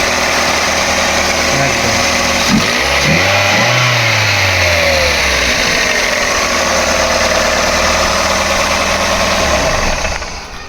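Used Toyota G Corolla car engine running loud and close, a steady idle with a rev rising and falling in the middle before settling back, then cutting off at the end.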